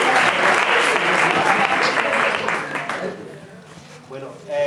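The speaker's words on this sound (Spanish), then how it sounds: "Un aplauso." An audience at a talk on the Church and immigration breaks into loud sustained applause, which fades over a few seconds before a voice follows.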